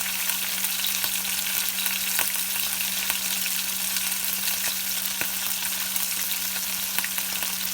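A steak sears in a pan for Thai-style crying tiger, a dense, loud, even sizzle with faint stirring clicks, constant throughout and free of talk.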